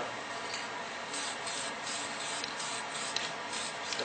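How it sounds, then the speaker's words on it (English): Spray paint hisses from a can as blue is sprayed along an edge, a steady broadband mist with slight pulsing, close and continuous without a break. "I'm going to spray paint some blue along this edge, letting the mist fall down"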